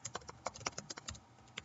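Quick, uneven keystrokes clatter on a computer keyboard while a meeting description is typed, close and fairly quiet with no voices.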